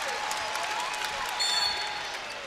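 A women's college basketball crowd at a Virginia Tech game applauds and cheers a freshman's first points, a sustained wash of clapping from the arena stands with a commentator speaking over it.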